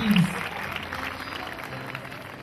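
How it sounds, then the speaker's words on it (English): Brief scattered applause from a group at a church crusade, moderately loud at first and fading within a couple of seconds, with a voice briefly audible at the start. "Clap for Jesus Christ."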